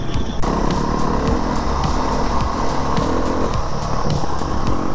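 A KTM 500 EXC enduro motorcycle engine runs steadily and loudly throughout, with a rough, throbbing drone and some clattering road noise as the bike rides along.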